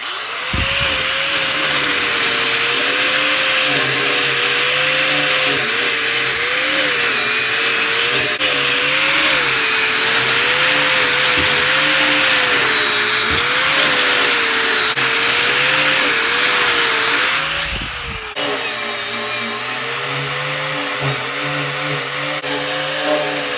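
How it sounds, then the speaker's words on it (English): A high-pitched power tool whines continuously at close range while cleaning gasket surfaces on a Caterpillar Sixty tractor engine, its pitch wavering as it works, then dips briefly near the end and keeps running. "So I'm going to get at cleaning these gasket surfaces up."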